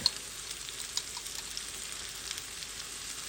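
Minced garlic sizzles and fries in a skillet, a faint, steady crackle with scattered small pops and no speech.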